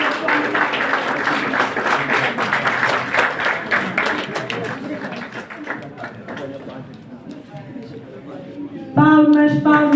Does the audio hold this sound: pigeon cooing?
no